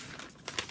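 Paper notebook page folded and creased by hand, a few soft crinkles and crisp rustles, quiet and close.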